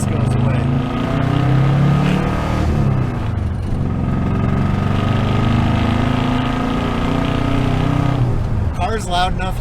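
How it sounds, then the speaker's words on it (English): A 1976 Dodge Dart's engine revs loudly under acceleration from inside the car, a steady low rumble rising and falling throughout, with a person talking over it. "Car's loud enough you definitely can't hear it tick when you're accelerating."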